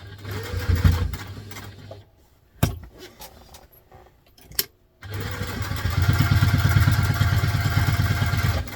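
A sewing machine stitches down the side of a vintage-style doctor's bag handbag, running in a loud steady whirring burst, pausing for a couple of seconds of quieter handling, then stitching again continuously to the end.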